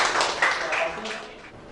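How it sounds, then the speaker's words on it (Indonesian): A classroom group claps together in a short, quick burst of applause that fades over under two seconds. "berikan tepuk tangan"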